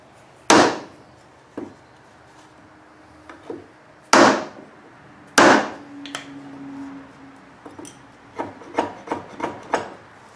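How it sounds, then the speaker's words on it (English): A chisel held bevel down cuts into wood, with sharp knocks and scraping strokes spaced irregularly, followed by a quicker run of lighter taps near the end, close and without talk. "holding my chisel like this with the bevel down, so we're not going deeper"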